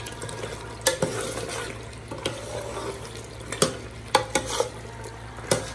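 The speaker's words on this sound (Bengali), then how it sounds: "এই যে হচ্ছে মাংস বসানো, দেখতে পাচ্ছেন রান্না অনেকটা হয়ে গেছে" Meat simmering in a pot on a home stove, a low bubbling background broken by scattered clinks and scrapes of stirring, close by and with no voices.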